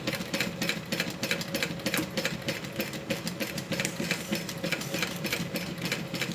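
A sewing machine runs steadily, stitching continuously around the edge of a zip-around wallet with a fast, even mechanical whir and rapid needle clatter, close and alone without talk.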